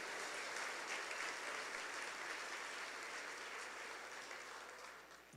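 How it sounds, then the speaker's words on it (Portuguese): A church congregation applauds during a sermon, producing a steady, fairly soft and slightly distant roar of many hands clapping that gradually tapers off near the end. "Pode aplaudir o Senhor mesmo."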